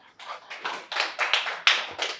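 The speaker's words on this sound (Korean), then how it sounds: "오늘 박수 쳐주세요" A church congregation claps for a returning member during a Sunday sermon, a brisk burst of applause with uneven, overlapping claps swelling in waves for about two seconds, fairly close and loud, with no talking over it.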